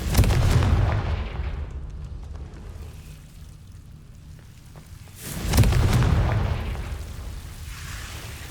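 Spell explosions from the Confringo curse in the Hogwarts Legacy video game, two heavy booming blasts a few seconds apart, each with a loud low rumble that decays slowly.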